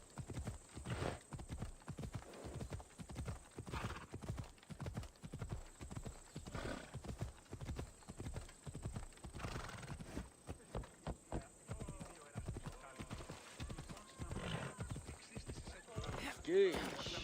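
Hooves clip-clop in a quick, steady gallop as a horse runs in Assassin's Creed Odyssey, with an occasional whinny and someone talking over the hoofbeats.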